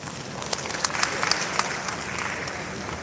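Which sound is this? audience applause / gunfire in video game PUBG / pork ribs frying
audience applause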